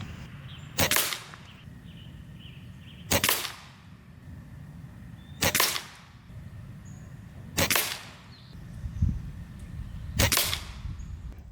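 A JTS Brawn bullpup PCP air rifle fires 15.9 grain JSB pellets at a 40-yard target, giving five sharp, loud cracks evenly spaced about two seconds apart over a quiet outdoor background with no talking.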